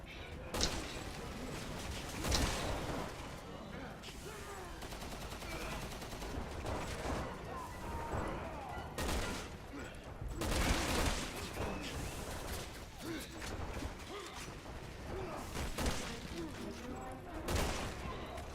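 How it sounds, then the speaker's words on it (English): Gunfire from shooting Juavo in Resident Evil, a steady bed of shots with several louder bursts spread across the span, under a voice talking. "You can shoot the Juavo down as they climb over"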